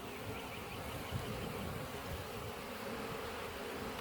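Honey bees swarming over capped and uncapped honeycomb in an opened hive produce a dense, steady buzz that holds at an even loudness throughout, close and continuous with no voices.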